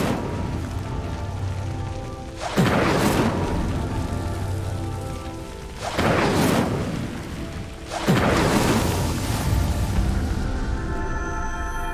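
Incendio fire spell in Hogwarts Legacy, three loud whooshing fire blasts in quick succession, each a sharp roaring burst that fades out, alone without talk.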